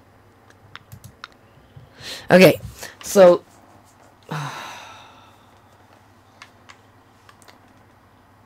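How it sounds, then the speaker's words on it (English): Faint, scattered computer mouse clicks tick in the background, sparse and irregular, while a person speaks briefly and sighs. "Sorry if you hear my mouse clicking in the background."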